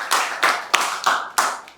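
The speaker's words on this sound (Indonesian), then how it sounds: "Betul. Tepuk tangan." A class clapping hands in a lecture room, five quick bursts of applause in an uneven rhythm, close and crisp, with no talk over it.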